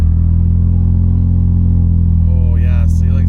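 A 2003 Nissan Pathfinder SUV's engine gives a loud, steady rumble throughout, running rough and gutless; near the end the pitch rises as it revs up, with a voice speaking over it.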